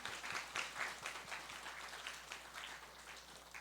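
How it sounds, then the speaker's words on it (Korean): Congregation applause welcoming guests during a Sunday worship service in a church: a dense, steady wash of many hands clapping that holds evenly for several seconds, with no talking over it. "우리 박수로 먼저 환영을 잠깐 할까요?"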